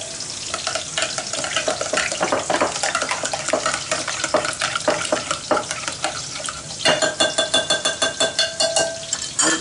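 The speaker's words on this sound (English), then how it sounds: "So we're going to whisk it." A spice mixture of fennel, ginger and chili powder is whisked, giving a quick, rhythmic series of close scraping and tapping strokes that speed into a steady beat near the end, with no talk.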